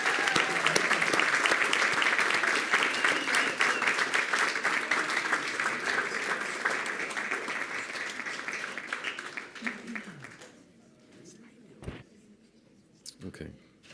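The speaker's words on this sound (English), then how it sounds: "How about a big round of applause for our students here?" Sustained audience applause at a school board meeting greets young art students, dense and steady for about nine seconds before thinning out and fading into scattered claps and murmurs.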